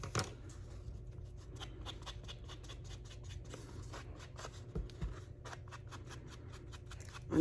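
Scissors snipping through paper for a crafted journal card, a series of quick, crisp cuts in irregular succession, close and fairly faint over a low background hum.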